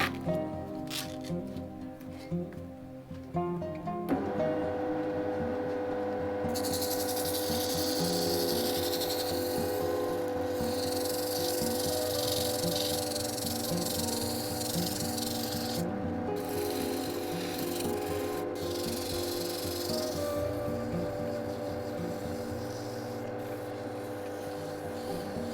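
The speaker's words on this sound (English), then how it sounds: "I'll be starting with 40 grit sandpaper." Coarse 40-grit sandpaper rasping steadily over a cast resin dragon egg, a continuous scratchy rubbing at close range with shifting strokes and no talking, set against a faint tonal background hum.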